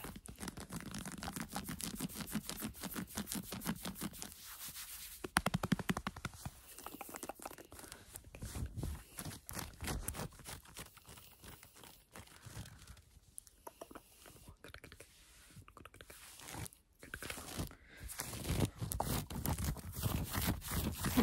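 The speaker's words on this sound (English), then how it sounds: "Do the sweatshirt scratching first." Fast, close scratching on sweatshirt fabric for ASMR, a dense run of rapid rustling strokes with brief pauses, loud and near with no talking.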